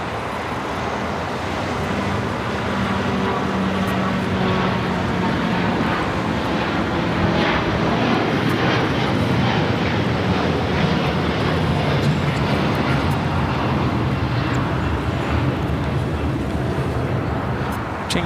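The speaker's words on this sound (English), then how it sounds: "This is All Nippon Airways Flight 5 taking off to Tokyo Narita on a 787-9 Dreamliner." All Nippon Airways Boeing 787-9 Dreamliner taking off at LAX bound for Tokyo Narita, a sustained loud broadband engine roar holding steady and swelling slightly, heard from nearby.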